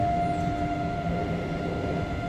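A Moscow metro train rumbles loud and close inside the car, with a steady hum and a sustained tonal whine over the running noise as it comes into a station.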